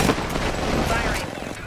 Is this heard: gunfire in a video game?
yes